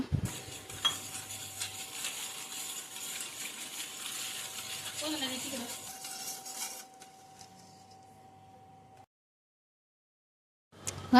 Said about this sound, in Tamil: இதுமாதிரி வச்சு நல்லா மிக்ஸ் பண்ணி நல்லா கரைச்சிக்கோங்க